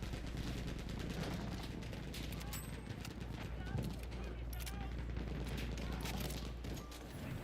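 Battlefield 1 gameplay with continuous battlefield gunfire, rapid shots and machine-gun bursts layered over a dense noisy war ambience, with some talk in the mix throughout.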